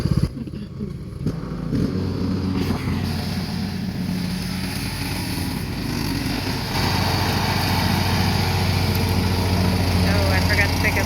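A riding lawn mower's engine drones steadily and loudly throughout, with voices talking faintly over it near the start.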